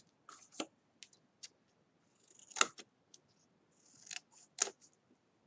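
Scissors cutting cardboard for a handmade keepsake box, with a handful of faint, sharp snips spaced irregularly in a quiet room.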